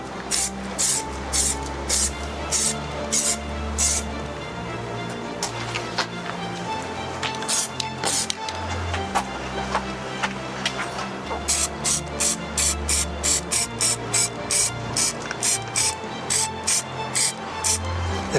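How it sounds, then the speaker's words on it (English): An aerosol can sprays primer onto small parts of a 1/6 scale Bailey Bridge model outdoors on a windy day, in repeated short hissing bursts with a rhythmic pattern, some quick and clustered, close to the microphone. "So spraying some more small parts."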